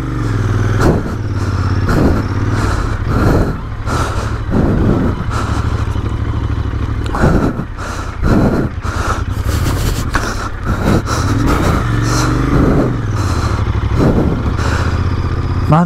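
Royal Enfield Interceptor 650 motorcycle ridden on an off-road dirt trail, its engine loud and close with repeated rising and falling throttle bursts amid clattering and scraping over rough ground.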